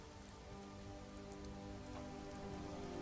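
Rain falling in a forest, a dense, even patter of drops on surfaces that holds steady and fairly soft for a few seconds.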